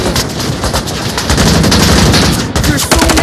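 Rapid automatic gunfire rattles in a shooting video game, loud dense bursts with a short break, dominating the whole stretch.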